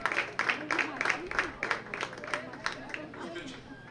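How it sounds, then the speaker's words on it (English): Baseball crowd at a high school game applauding a substituted pitcher: scattered rhythmic clapping from a modest crowd, steady over a few seconds, mixed with background chatter and voices. "Round of applause for Mr. Cole Tripp."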